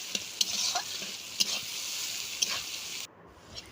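Onions with salt being stirred and fried in a pan, a constant bright sizzle with a few sharp spoon scrapes at regular intervals, close up, cutting off near the end.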